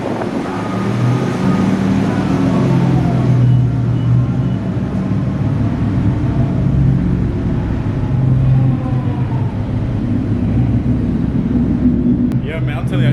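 Cars rolling into a car meet in a Murfreesboro parking garage, a steady heavy engine rumble echoing throughout with passing vehicles, and people talking over it.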